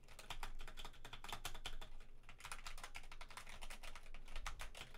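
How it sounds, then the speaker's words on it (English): Rapid clacky keystrokes on a Razer Huntsman V3 Pro TKL keyboard patter quickly and fairly close, a dense stream of crisp clicks with brief pauses and no talking. "See how it feels to type on real quick."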